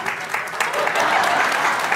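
Studio audience at a daytime talk show breaks into steady, loud applause, a dense wash of clapping that holds for the full two seconds.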